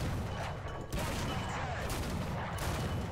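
A ZUT-37 autocannon fires in War Thunder, making a dense run of booming, overlapping shots that continues throughout at a fairly even level.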